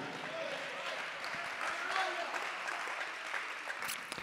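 A church congregation claps their hands during a worship service, producing a soft, continuous patter of many hands with faint voices mixed in.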